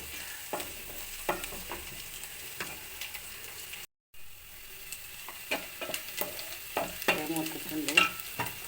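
Stirring and frying of ingredients for a roasted-coconut chicken curry with 1.5 kg of chicken, a steady close sizzle broken by repeated scraping and clinking stir strokes, with a short dropout midway.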